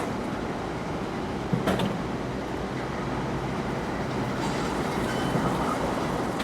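A freight train led by an AC44C6M and an ES44AC locomotive rolls past, a steady wash of rail and wagon noise with a brief clank early on and faint squeals later.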